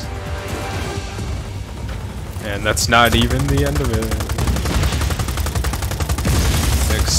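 Rapid machine-gun bursts and gunshots crackle through a combat scene in the video game Just Cause 4, building in intensity with bangs and crashes, while a person talks over the firing.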